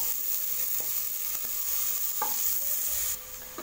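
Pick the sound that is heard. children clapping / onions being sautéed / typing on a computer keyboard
onions being sautéed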